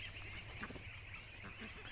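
Ducks in a backyard duck pen quack and honk in a busy, overlapping chorus close by, with a low steady hum underneath and no clear speech.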